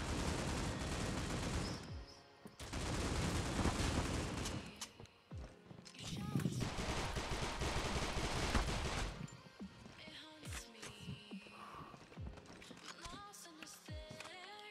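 Critical Ops mobile shooter gunfire comes in long dense volleys of rapid shots, loud and sustained across two stretches, then gives way to sparser scattered shots and mechanical clicks with faint talk underneath.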